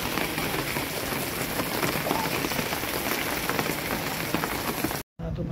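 Heavy monsoon rain pours onto a flooded street at a town crossing, a dense steady hiss of drops that continues evenly, cut by a brief silence near the end.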